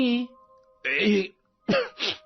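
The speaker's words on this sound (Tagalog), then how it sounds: "lalo pong lumalala ang ubo niyo" Several rough, harsh coughs and throat-clearing sounds come in separate bursts, close and fairly loud, with short pauses between them.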